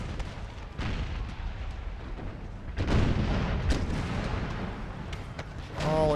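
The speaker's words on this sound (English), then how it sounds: "All cannons, focus your fire on the infantry." Cannon and artillery fire in Empire: Total War, a battlefield barrage of deep booms and rumbling blasts that rise in a strong burst partway through, with other battle sounds in the background.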